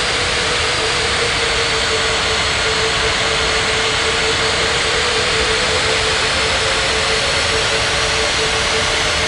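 A jet airliner on its takeoff roll in an air traffic control game, a loud, steady broadband engine roar with a constant whine running unchanged throughout, no voices.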